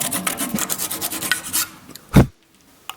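A handsaw rasps back and forth in quick close strokes, flush cutting a glued wood plug, ending with a sharp final cut, then quiet.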